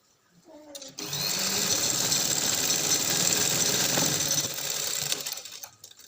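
A sewing machine stitches a lace sleeve, running in one continuous close, steady whirring burst for about four seconds after a brief start, then slowing to a stop.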